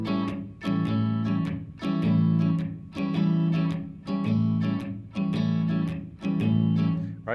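An electric guitar plays a steady shuffle rhythm on an A dominant seventh bar chord across all six strings, with repeated strummed chord stabs in a loping pattern, clear and close with slight distortion.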